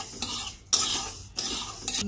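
A spoon stirs dry-roasting lentils in a pan for khichuri, giving close scraping strokes in a few distinct bursts with a light sizzle between them and no talking.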